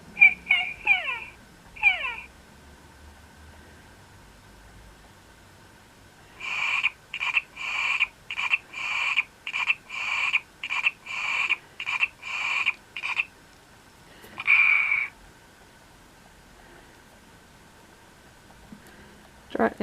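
An OMG Pets Poodles electronic toy dog gives a series of short, bright synthetic yaps and whimpers, a few early then a rapid run of about a dozen evenly spaced bursts, close and fairly loud, with faint indoor background.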